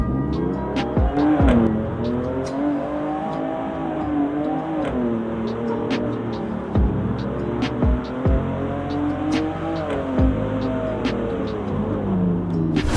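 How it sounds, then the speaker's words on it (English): Engine of a car in the Roblox game Greenville revs and shifts up through the gears, with sharp clicks at each change over a continuous loud engine drone. "when you change gears, there is a clicking sound"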